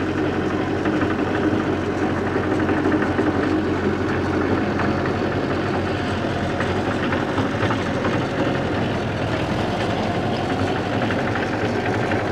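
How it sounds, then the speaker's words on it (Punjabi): A Mahindra 40 hp single-cylinder tractor in first low gear pulls a 7 ft double rotavator, giving a steady, loud, continuous engine drone with churning mechanical rattle and no break. "7 ਫੁੱਟ ਆ ਰੋਟਾਵੇਟਰ 40 ਐਚ ਪੀ ਦਾ ਟਰੈਕਟਰ ਆ ਮਹਿੰਦਰਾ ਵਾਲਾ ਅਤੇ ਇਹਨੂੰ ਖਿੱਚ ਰਿਹਾ"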